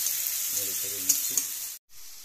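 Ginger, garlic and onion paste fries in a pan, a loud steady hiss with faint scraping strokes from stirring, then a sudden brief cut to silence before the sizzle returns.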